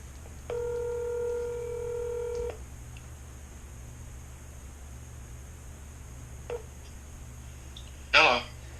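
Telephone keypad dialing tones from a phone call being placed, a steady two-second run of stacked pure tones, then a brief blip and a short rustling burst near the end, over low background hum.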